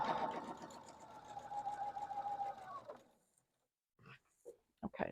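A sewing machine stitches a diagonal seam across a quilt block for a block-of-the-month project, running steadily and close for about three seconds before stopping, followed by a few soft handling clicks and rustles.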